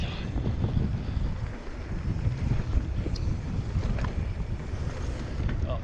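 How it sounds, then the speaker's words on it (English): Wind buffets the microphone of a mountain biker riding trails and jumps at a bike park near Lake Brophy, Alexandria, Minnesota, a steady loud low rumble that persists throughout with no talking. "The wind's blowing right at me."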